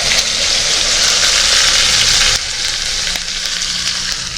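Prepared masala for paneer gravy hits a hot pan with a loud, close, continuous sizzle that drops a little in intensity midway, no talking.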